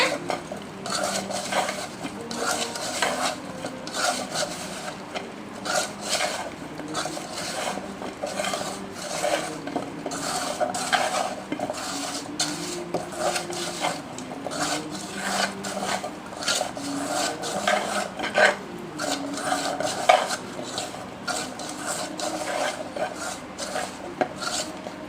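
Mushroom fry ingredients being mixed in a bowl for a crispy Mushroom 65 starter, with continuous scraping, rubbing and clinking of a utensil against the bowl in a steady, busy rhythm, fairly quiet and close.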